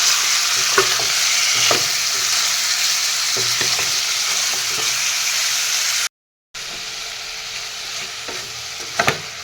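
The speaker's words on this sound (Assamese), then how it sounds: "ইয়াত দেখিছেনে মাংসখিনি মই এনেদৰে ভালদৰে তল ওপৰ কৰি এয়া লৰাই দি দিছোঁ" Chicken pieces fry in a pan as they are turned over and stirred, a steady close sizzle with periodic scraping knocks, briefly cut to silence midway before the sizzle resumes.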